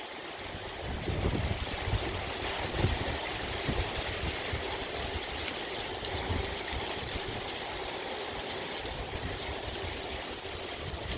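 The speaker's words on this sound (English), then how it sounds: "Water all the way up to the side of the house" Storm surge water from Tropical Storm Claudette at Dauphin Island, pushed up against the side of a house, makes a constant broad rushing wash with gusting wind noise throughout.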